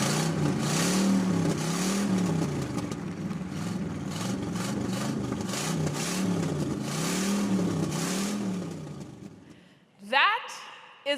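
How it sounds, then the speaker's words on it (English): Car engine revving hard at a Las Vegas street car meet, a loud droning roar that swells and falls in repeated waves for about nine seconds, then cuts out before a brief burst of higher sound near the end. "debate went on about excessive revving at car meets"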